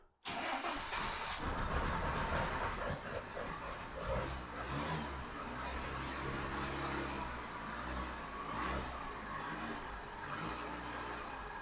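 A Series 3 Land Rover, about fifty years old, fires up on choke after a brief crank, then settles into a loud, steady idle with a rough, lumpy rhythm close by.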